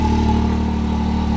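A 2020 Can-Am X3 RC side-by-side idles steadily after a tune-up, its engine holding an even, close, loud low hum with no revving and no voices.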